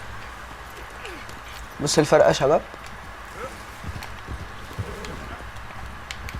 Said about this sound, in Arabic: هو ده يا شباب الحصان الامريكي الاسود، حصان قوي جدا يا شباب